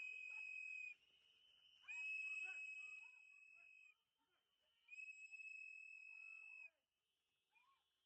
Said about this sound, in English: Whistles, man. That's why I don't want to watch with the sound.